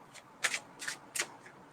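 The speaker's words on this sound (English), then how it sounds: "I think I need to shuffle these babies" A deck of tarot cards being shuffled by hand, three or four short riffling bursts in quick succession, close and crisp against a quiet room.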